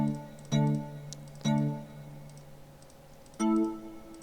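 A video game menu back sound: three short chime-like tones with ringing harmonics, each striking sharply then decaying, spaced irregularly over a quiet background.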